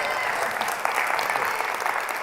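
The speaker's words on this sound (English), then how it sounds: "Please give them a round of applause." A studio audience at a panel event on Black identity in sport breaks into steady, sustained applause, a dense, even wash of clapping from many hands.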